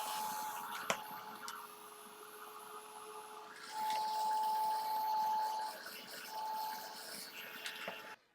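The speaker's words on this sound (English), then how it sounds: "I'm just going to blow this around with my heat tool." A craft heat tool blowing alcohol ink around on a surface, a steady airy whirring hum that runs throughout with a slight shift partway, a faint click near the start, no talk.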